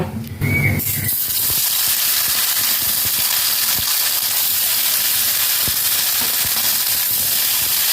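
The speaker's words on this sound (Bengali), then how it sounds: "এবার আমি মাছগুলোকে একটু লাল লাল করে ভেজে নেব" Small fish coated in salt and turmeric fry in hot oil in a wok, giving a loud, steady, close sizzle that hisses without pause and without voices.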